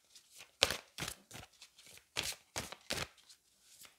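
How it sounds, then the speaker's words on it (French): Cards from the Magic of You oracle deck being shuffled and drawn: a series of short, close papery swishes and flicks in an irregular rhythm, with quiet gaps between them. "On va aller prendre une carte du Magic of You."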